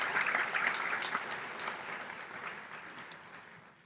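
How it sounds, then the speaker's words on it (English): Meeting audience applauds its sponsors in a dense burst of clapping that starts full and slowly fades over a few seconds. "Let's give our sponsors a round of applause."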